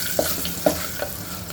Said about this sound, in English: can hear the crackling sound of mustard and the cumin seeds